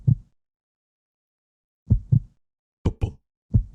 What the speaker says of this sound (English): Feel the sound of our own heartbeat there, people.